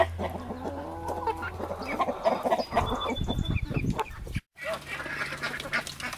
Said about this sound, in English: These are some young Australorp hens.